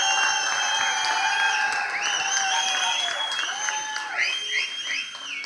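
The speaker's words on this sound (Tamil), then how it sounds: "நம்ம ப்ரொடியூசர் சாருக்கு ஒரு பெரிய கைத்தட்டல் கொடுத்துடலாம்" Applause fills the hall at the Madraskaaran teaser launch event as the audience honours the film's producer, steady dense clapping mixed with crowd noise, whistles and shrill cheers rising and falling over it.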